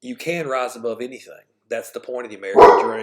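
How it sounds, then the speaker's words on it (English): A dog barks loudly near the end, a short burst right after a person speaks, with talk filling most of the moment before it. "Pardon my dog."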